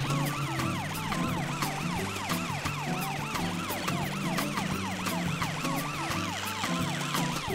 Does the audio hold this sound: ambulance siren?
yes